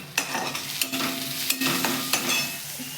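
Peeled garlic pounded in a mortar by a child at home, sharp rhythmic thuds repeating roughly every half second, close and fairly loud over a faint continuous background hiss.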